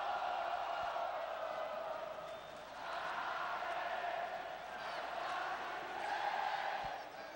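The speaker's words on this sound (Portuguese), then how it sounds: "Aí a torcida do Goiás fazendo a festa no Serra Dourada." Goiás supporters at Serra Dourada stadium roar during a 2000 match against Corinthians, a dense crowd noise heard from a distance that swells and dips in waves and runs unbroken across the whole stretch.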